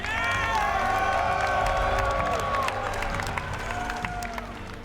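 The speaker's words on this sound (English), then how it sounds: "Give it up for Bomber!" A live esports crowd at Red Bull Battle Grounds applauds and cheers for a StarCraft 2 player, with sustained clapping and whoops that stay loud throughout and then ease slightly toward the end.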